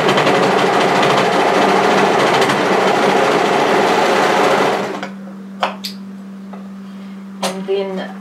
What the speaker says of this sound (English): So I'll just finish stitching that down.